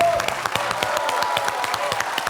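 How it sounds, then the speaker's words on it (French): A studio audience at a French TV quiz show applauds in a brief, dense burst. A voice talks over the clapping. "on va vous applaudir à tout rompre"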